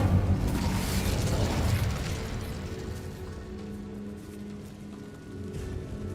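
An Incendio fire spell erupts in Hogwarts Legacy, a loud roaring burst of flame that settles into a sustained crackling rumble and slowly fades.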